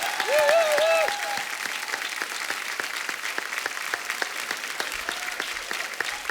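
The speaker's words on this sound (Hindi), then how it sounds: "जोरदार तालियां।" Studio audience of a comedy talk show, The Kapil Sharma Show, claps loudly and steadily for the whole stretch, with a brief whistle or cheer rising above the clapping near the start.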